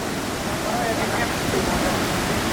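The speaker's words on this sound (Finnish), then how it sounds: "Siellä ollaan vesiputouksella." A waterfall in Tuscany roars as a steady, dense rush of falling water, loud and close, filling the short stretch without a break.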